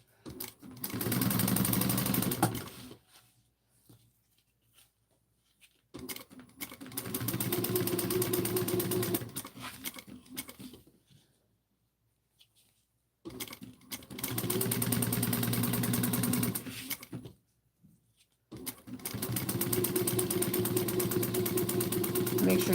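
A sewing machine back-stitches fabric lining for a bowler bag at a 3/8-inch seam, running in four loud whirring bursts separated by short pauses, close to the microphone and without talk over the stitching.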